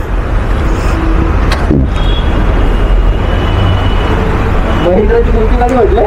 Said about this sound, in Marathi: Mahindra K U V hundred diesel